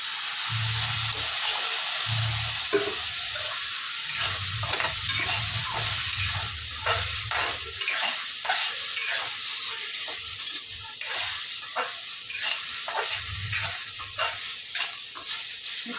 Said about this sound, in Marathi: आता टाकतो बटाटे थोडंसं तेल टाकत आहोत